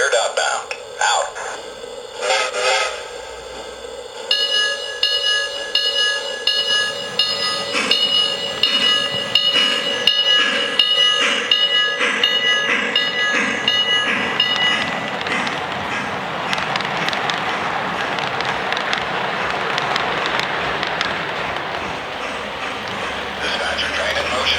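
A Lionel O scale Lionchief model train rumbles steadily along its track, with clicking rhythm and a faint whine, while voices talk over it throughout.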